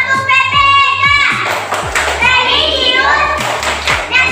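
A school class performs the PPK clapping chant, with sharp rhythmic hand claps in quick bursts close by and children's voices chanting between and over the claps.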